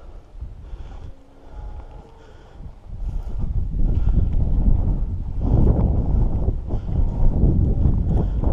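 Wind blows outdoors at an old sawmill during a pigeon hunt, a steady low rumble of gusts buffeting the microphone that grows louder and stays heavy through the second half.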